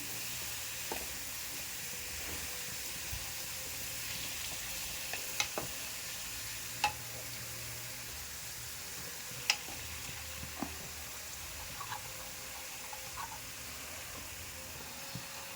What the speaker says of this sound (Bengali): এই যে দুধ গরম হচ্ছে।